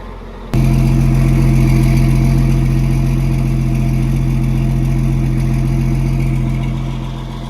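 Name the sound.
tractor engine starting and idling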